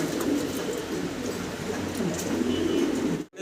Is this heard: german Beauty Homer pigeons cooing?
yes